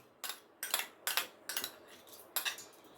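Roasted mustard seeds, fenugreek, cumin, coriander and dried chillies tipped from a pan into a bowl, with six sharp metallic clinks and rattling pours at roughly half-second intervals, close and clear.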